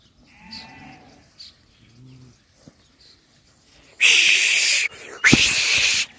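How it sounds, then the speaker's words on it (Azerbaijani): Sheep and young lambs bleat in a short series of calls, some soft and others sharper, with two louder, rougher stretches of noise near the end. "Qardaşının öz qoyunun balalardır."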